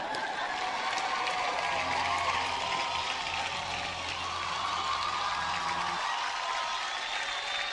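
Applause from an award-show audience at the Filmfare Awards 2025, a steady broad wash of clapping and crowd noise at moderate distance, continuing evenly throughout with no talk on top.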